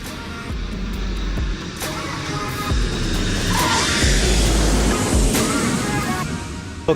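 A steady roar of aircraft engines fills the air at Tromso airport in Norway, broad and fairly loud, with a wind-like rush and passing vehicle noise in the background.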